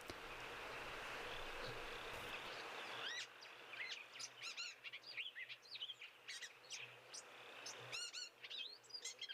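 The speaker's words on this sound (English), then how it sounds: "A couple of weavers calling at the moment." Several weaver birds chirp and call in quick, busy bursts over a background of insect buzzing, a lively outdoor dawn chorus at moderate distance.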